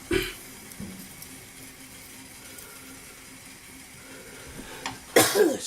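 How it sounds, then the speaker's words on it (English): A cold-sufferer's cough sounds in a kitchen, two harsh bursts close to the microphone, one at the start and another near the end, with quiet room tone between. "this horrible cough that just will not go away."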